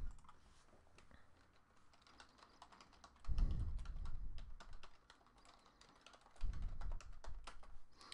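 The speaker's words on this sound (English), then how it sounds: "So like I said, we're typing it in." Typing on a computer keyboard while entering baseball card team and customer names, a steady run of light, quick key clicks with two brief louder thumps, no talking.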